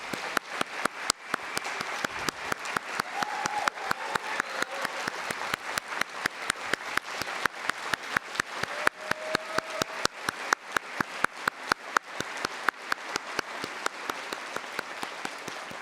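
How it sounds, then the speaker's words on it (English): Audience applause at a school district's state-of-the-system address in Akron, a crisp steady patter of many hands that carries on for a long stretch at moderate level. "Let's give them a round of applause."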